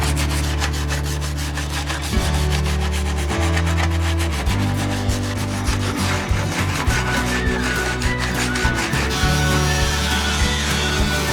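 Wood being sanded during a home renovation, a steady abrasive rubbing that runs loud and continuous for several seconds, with uneven scraping strokes and no voices.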